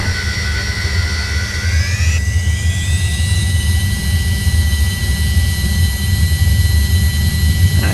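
Avro Vulcan jet engines in a flight simulator game throttle up, a loud, steady roar with a rising whine that climbs in pitch partway through and then holds high and constant.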